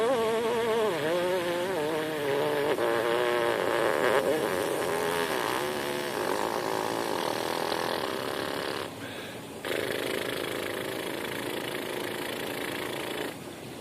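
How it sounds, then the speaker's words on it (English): Trumpet player's lips buzzing a low triple pedal C without the horn, a loud, steady, reedy drone with wavering pitch held for the whole stretch and broken by one brief dip in level. "That was actually a triple pedal C lip buzz."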